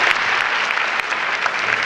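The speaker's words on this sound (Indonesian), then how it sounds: "berikan tepuk tangan bagi Allah" Church congregation applauding, a dense, loud burst of many hands clapping together, steady and close for the whole short moment.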